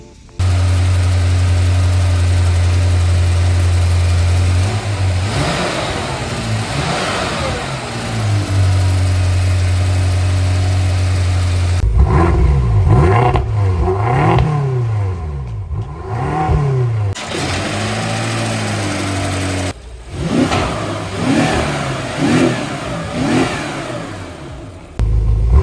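BMW F10 M5 engine fitted with carbon fiber intakes, idling loudly up close, then repeatedly revved with rising and falling sweeps between steady idle stretches, no voices.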